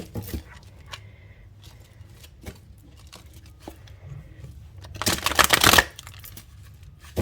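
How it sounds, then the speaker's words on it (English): A thick tarot deck being shuffled by hand, with quiet scattered card taps and rustles, then a louder burst of riffling close up near the end. "I'm going to shuffle a couple more times on camera"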